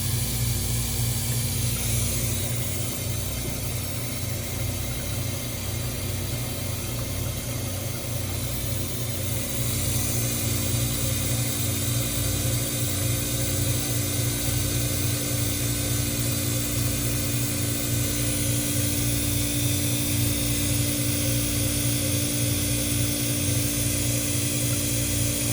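A Hoshizaki ice machine running in its harvest cycle with the compressor on and the hot gas valve open, giving a loud continuous mechanical drone with a pulsing low hum and a steady hiss layered over it.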